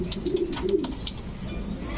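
Pigeons at a pigeon market cooing in low, soft repeated calls close by, with faint chirps and background murmur throughout.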